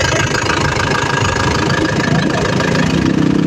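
Isuzu Crosswind engine idling steadily up close, a dense rough mechanical hum with a slight knocking texture as the air con compressor cycles off, continuous and loud with no voices.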